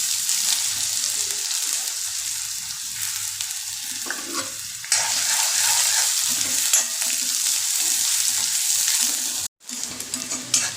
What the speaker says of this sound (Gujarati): તો લસણ ડુંગળી સાથે સતળાય છે